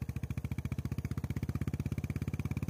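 A Royal Enfield Bullet motorcycle idles steadily while stopped on a hill road, its single-cylinder engine thumping in an even, rapid rhythm close by, with no talk.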